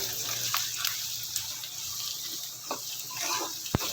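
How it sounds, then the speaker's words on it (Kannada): Onions fry with turmeric powder and curry leaves in a pan: a faint, steady sizzle with soft stirring scrapes and one sharp click near the end. "ನೀರುಳ್ಳಿ ಟ್ರಾನ್ಸ್ಪರೆಂಟ್ ಆಗಬೇಕು, ಅಲ್ಲಿವರೆಗೆ ಫ್ರೈ ಮಾಡ್ಕೋಬೇಕು"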